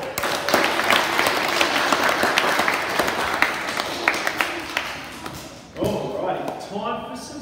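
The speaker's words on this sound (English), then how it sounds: "And one more big clap for our super guitar and ukulele players" A school assembly audience claps loudly for guitar and ukulele players, dense sustained applause with scattered thumps that drops away near the end, where a voice begins speaking.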